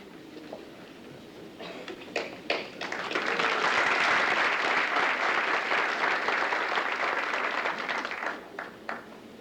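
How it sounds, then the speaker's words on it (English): Applause rises from a crowd at a 1991 chiropractic college graduation ceremony, starting with scattered claps, swelling into sustained clapping across the hall, then thinning back to a few isolated claps. "Certainly individual applause is encouraged."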